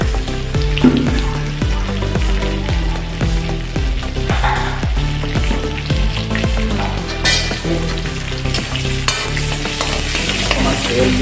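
Food sizzling and frying in oil in a pan, with steady rhythmic stirring scrapes repeating throughout, loud and close, no talking.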